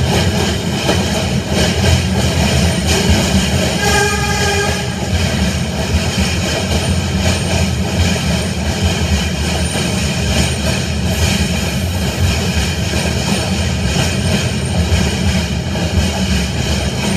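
MTA New York City subway train passing, a loud continuous rumble and roar with rattling wheels, a brief tonal squeal early on, and no letup across the whole stretch.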